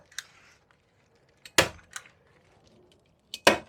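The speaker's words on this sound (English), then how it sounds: "just use this staple gun" A staple gun fires into insulation in a quiet room, a few sharp, close snaps spaced out over a few seconds, with two louder clacks standing out.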